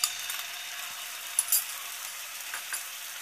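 Ginger garlic paste sizzles in hot oil in a pan, a steady faint crackling hiss with a few brief louder spatters, no voices.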